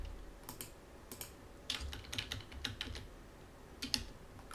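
A computer keyboard is typed on in short, quiet bursts, with scattered clicking keystrokes and brief pauses between them in a hushed room.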